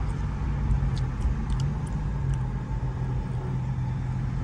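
Heavy road traffic around a car, heard from inside the cabin: a constant low engine and road rumble with passing vehicles blending into a steady drone, no talking.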